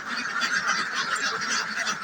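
A flock of ducks quacks continuously and loudly up close, a dense overlapping chorus with no pauses.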